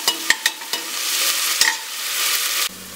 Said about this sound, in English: Fry it till the rosemary leaves.